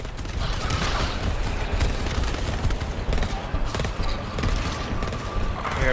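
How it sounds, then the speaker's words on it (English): Weapon fire in the co-op shooter GTFO, a dense run of loud, booming shots fired in quick succession, heavy and continuous, with a faint voice now and then beneath the blasts. "wait for your shotgun to stop shooting"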